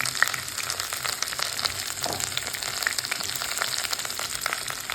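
Chopped green chillies and curry leaves fry in hot oil for a Kerala-style fish pickle, giving a close, steady, even sizzle that carries on without a break and with no voices.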